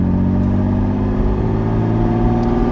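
A 1974 Ferrari 246 GTS Dino with its mid-mounted V6 drives by steadily, a loud, continuous mid-pitched engine note that holds smooth through the whole stretch with no pauses and no voices.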